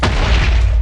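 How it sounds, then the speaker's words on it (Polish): A loud, deep boom from a paintball grenade in a video game, filling the short moment with a dense rumbling blast and no voices. "Przypominają normalne granaty, ale nie tworzą tak dużego wybuchu."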